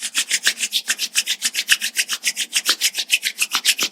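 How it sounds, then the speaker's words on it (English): Two palms rub briskly back and forth against each other, making a close, dry, rhythmic swishing of about eight strokes per second that continues steadily with no speech. "let's generate some energy between our hands by rubbing our palms against each other"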